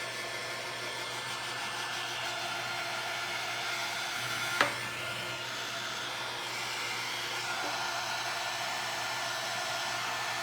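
A heat tool blows steadily while drying an upcycled index card box, producing a constant, even rushing hiss throughout with a single brief knock partway through.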